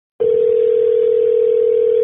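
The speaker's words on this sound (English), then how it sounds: "It's just ringing." A telephone ring tone sounds on a Google Voice call: a loud, steady electronic tone starts abruptly and holds unbroken, with no talking.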